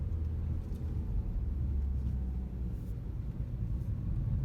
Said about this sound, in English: You could hear that engine making that rumble.